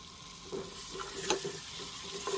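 Spice mixture of chilli powder, salt, coriander-cumin powder and turmeric being stirred in a pan for Kathiyawadi stuffed brinjal, with soft scraping strokes and a few sharper spoon clinks over a faint background sizzle, no talk.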